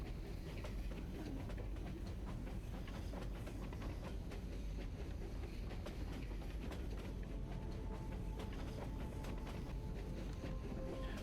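Train rolling along rails in the video game Steel Ark, a continuous dense rumble with rapid rattling clatter and faint hiss, steady and unbroken throughout with no talking.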